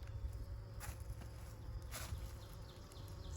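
Honeybees at the entrance of a purple 20-frame wool-insulated Layens hive, a soft continuous buzz with a few louder passes as individual bees fly close, heard outdoors in the early morning.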